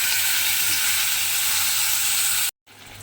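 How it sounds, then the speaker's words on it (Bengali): Pointed gourd (potol) coated with salt and turmeric frying in hot oil, a steady, close bubbling sizzle that holds evenly, then cuts out briefly before resuming near the end. "সেই পটলগুলো তেলের মধ্যে দিয়ে খুব ভালোভাবে পটলগুলোকে ভেজে নিতে হবে"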